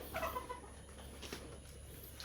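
Chickens clucking on a farm in the Philippines, faint and somewhat distant, a few short calls over a steady low background hum.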